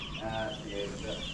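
Chickens cluck on a farm, close and fairly steady, with faint background noise.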